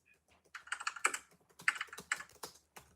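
Fingers type on a computer keyboard in quick, irregular clusters of crisp clicks, close and fairly quiet with short pauses between bursts.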